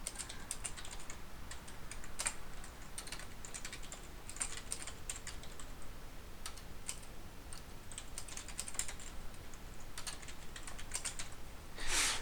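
Close, continuous typing on a computer keyboard, a steady stream of quick light key clicks with irregular spacing and a few sharper taps, running alone without talk, ending in a brief louder clack.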